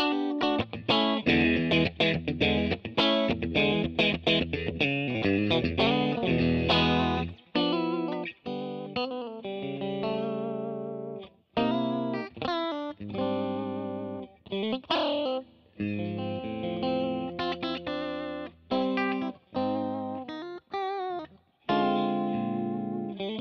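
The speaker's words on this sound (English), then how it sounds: "Now let's do the middle pickup and the back pickup together," Fender Custom Shop 1959 Stratocaster relic electric guitar played with the middle and bridge pickups combined, a run of strummed chords and single-note phrases with brief pauses, loud and close, lightly effected.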